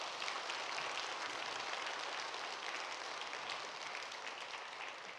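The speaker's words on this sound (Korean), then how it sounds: "크게 다시 한번 박수." A church audience applauds steadily and loudly at a summer evening sermon concert, a dense, even wash of clapping filling the whole stretch without pause or talk.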